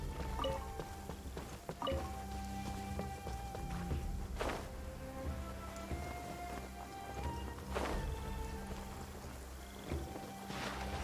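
Steady rain downpour in the video game Genshin Impact, a faint continuous hiss of falling water with a low rumble beneath and a few soft splashy hits, no talking.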